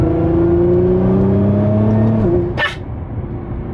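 A tuned Nissan R35 GT-R with an off-the-shelf tune rises in pitch, steady and loud, then cuts off. A brief burst of noise follows before a quieter idle.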